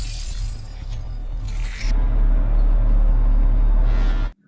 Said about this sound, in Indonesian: Charlie menjatuhkan sebuah gelas